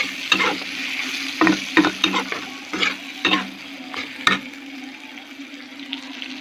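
A spatula scrapes and stirs curry around a frying pan, seasoned with ground black pepper and chopped coriander, in a run of about a dozen quick, close strokes over a steady sizzle, fading to a soft simmer, with no talking.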